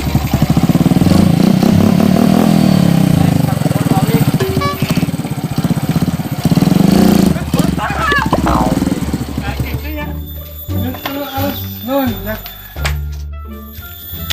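Motorcycle engine started and left running in a Sundanese village scene, a steady near-field putter and drone for about ten seconds before it drops away under spoken voices.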